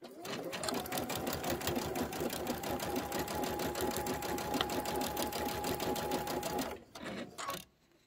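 A sewing machine stitches quilt blocks in a steady, loud, rapid run for nearly seven seconds, then stops briefly and gives a short final burst before falling quiet.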